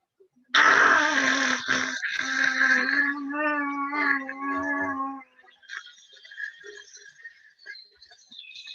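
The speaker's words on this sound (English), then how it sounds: "breathe out, make roaring sound" A loud, drawn-out roaring exhalation during a yoga breathing exercise, voiced and breathy at first and then fading into a quieter, rougher breath with a few softer sounds afterward.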